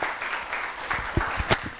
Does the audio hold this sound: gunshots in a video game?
no